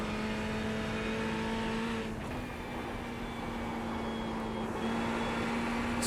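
A Ferrari GT3 race car engine in the iRacing sim holds a steady high drone, briefly dipping in pitch mid-pass before settling again, loud and continuous with no talk.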